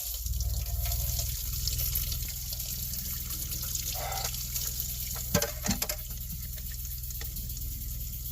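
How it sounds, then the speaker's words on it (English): Hot tap water runs into a sink in a teardrop trailer, a steady low gushing flow with a few clinks of utensils partway through. "I'm going to run a little bit of hot water here"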